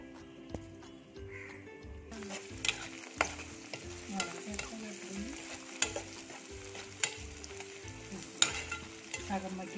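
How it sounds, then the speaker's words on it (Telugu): Capsicum curry cooking in a pan, steady sizzling and frying with a spoon stirring and scraping through it and a few sharp clinks of utensil on metal, close and moderately loud; birds call faintly in the background. "క్యాప్సికం బాగా మగ్గనిద్దామండి. మూత పెట్టేస్తాను,"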